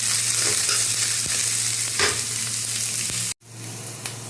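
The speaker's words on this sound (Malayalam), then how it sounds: "സവോള ഇട്ടിട്ടുണ്ട്, നമുക്കിത് ഇളക്കി കൊടുക്കാം കേട്ടോ." Sliced onions sizzle and fry in a pan for a fish curry while a spoon stirs them, scraping in a few distinct strokes over a steady crackle before a sudden brief cutoff near the end.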